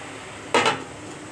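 A lid comes down on a cooking pot of leafy greens with one quick metallic clank and a brief rattle. The rest is a quiet kitchen.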